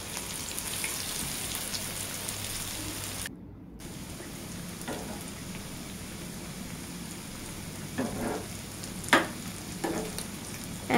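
Lentil and meat fritters sizzle in hot oil in a pan, giving a steady crackling hiss up close with a brief break and a few sharper pops and spatters toward the end, with no talking.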